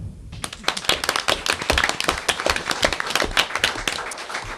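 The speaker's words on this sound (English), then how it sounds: "So I think a round of applause." Applause from an audience at a city council meeting, a dense burst of many hands clapping that carries on steadily and fairly loud through the whole stretch, with no talk over it.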